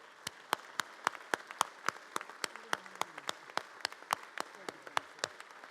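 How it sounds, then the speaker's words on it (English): A small audience gives a round of applause for veterans at a 2024 Veterans Day commemoration in the Louisiana House of Representatives. The sparse, distinct claps come at a fairly steady, moderate pace, sound somewhat distant and soft, and continue without any talking. "I'm going to ask for a round of applause for the veterans of the United States of America."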